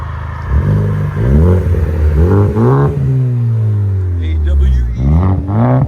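2016 Ford Focus ST 2.0L turbo with a 3-inch AWE Track cat-back exhaust is revved up close several times, each loud rise in pitch followed by a falling drop back toward idle.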